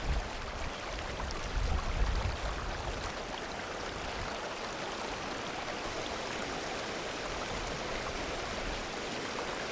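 Steady rushing river water flows continuously at a moderate distance, a broad even hiss with no voices over it, along the Kendal Limestone Way between Skipton and Giggleswick.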